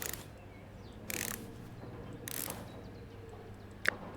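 Screws are driven in during assembly in the Electrician Simulator video game, producing short, quiet ratcheting bursts over a low hum, followed by a sharp click.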